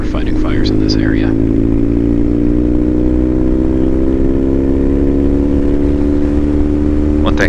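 An old BMW GS motorcycle's engine pulling under open throttle on a road trip across Washington, a loud, steady, rising drone heard from the rider's seat under heavy wind noise, with a few faint higher sounds at the start and end.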